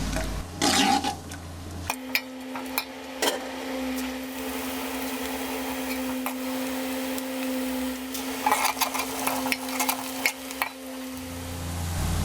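Sliced onions sizzling in hot ghee for chicken biryani, a continuous hissing fry with occasional stirring scrapes and clatters, close and steady throughout.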